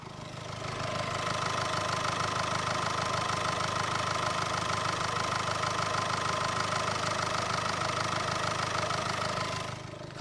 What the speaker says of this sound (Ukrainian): даю послухати, як працює мотор, мотор без лишніх звуків